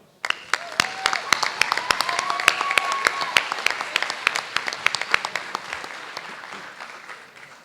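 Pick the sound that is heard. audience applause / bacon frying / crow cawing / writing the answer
audience applause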